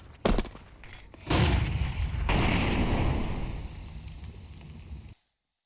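Grenades exploding down Banana in a Counter-Strike match, a sharp blast followed by a longer loud rumbling burst of explosions and gunfire that cuts off abruptly.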